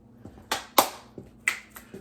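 Sharp finger snaps punctuate a fitness routine: about six crisp, close snaps at an uneven rhythm with quiet gaps between them.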